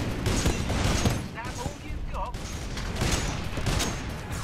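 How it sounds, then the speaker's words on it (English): A Titanfall 2 campaign battle erupts with a frag grenade blast and rapid gunfire, dense crackling shots and booms layered over shouted speech throughout, loud and chaotic. "someone's throwing a fucking frag grenade at me"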